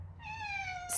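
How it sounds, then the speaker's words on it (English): A cat gives a single short meow, clear and close, with a slightly falling pitch, followed by a brief burst of noise at the very end. "That's my cat."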